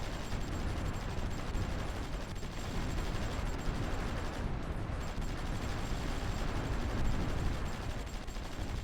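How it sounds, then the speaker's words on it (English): Gunfire on an artillery group in a strategy video game sounds as a dense, continuous rumble of distant shots and blasts, steady and unbroken throughout. "Oh, something's firing on the artillery group."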